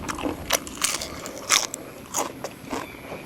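Close, loud crunchy bites and chewing of a Thai yam leb mue nang shellfish salad, several crisp cracks spaced irregularly over steady mouth noise, no talking.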